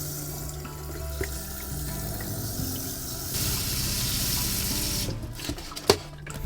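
Tap water runs steadily into a jug at a sink inside a camper van, a continuous close rush whose tone shifts partway as the jug fills, ending in a few knocks and clatters.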